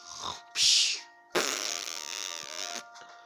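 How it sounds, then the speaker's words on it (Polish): A fart sounds in a cartoonish family scene, a loud burst near the start, then a long, rasping tonal fart about a second and a half long, with talk faint around it. "O fuj, co ty tak pierdzisz?"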